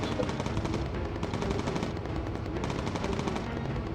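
A bomber's defensive machine gun rattles in Bomber Crew, a steady, loud, continuous stream of rapid shots filling the whole stretch with no pauses.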